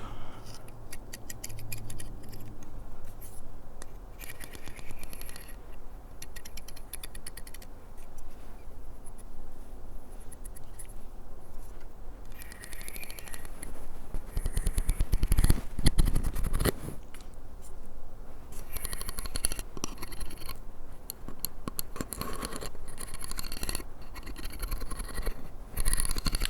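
A hairbrush drawn through hair close to the microphone makes soft, repeated scratchy strokes and crackles, steady and intimate, with a louder rustle partway through.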